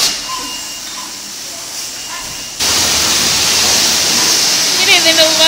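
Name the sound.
car wash water spraying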